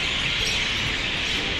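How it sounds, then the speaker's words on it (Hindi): Pigeons crowding the facade of Hawa Mahal in Jaipur at night, a dense continuous wash of calls and chatter from many birds at once, loud and unbroken. "चारों बगल कबूतर से भरा हुआ है और इतना आवाज़ आ रहा है, प्यारा आवाज़ आ रहा है वैसे।"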